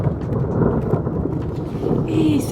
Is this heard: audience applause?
no